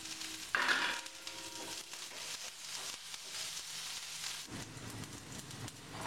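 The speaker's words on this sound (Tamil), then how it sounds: "இப்போ வெங்காயத்தையும் போட்டுருவோம்." Garlic and onions frying in a pan for a peanut curry make a faint, steady sizzle, with a brief clatter of stirring near the start and no voices.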